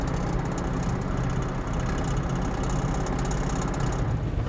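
Opel Corsa D engine with torn engine mounts, running steadily at close range as a continuous low rumble with a mechanical hum, heard alone with no talking.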